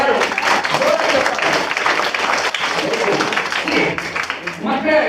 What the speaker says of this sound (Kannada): ಕಿರಣ್ಣಿಗೆ ಜೋರಾಗಿ ಚಪ್ಪಾಳೆ ಎಲ್ಲರೂ